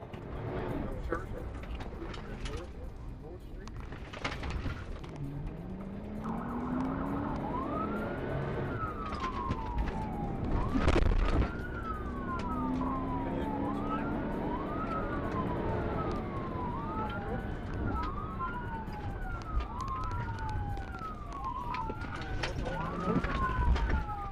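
A police siren wails in repeated rising and falling sweeps, fairly close, during a motorcycle pursuit, over a steady rumble of traffic and street noise.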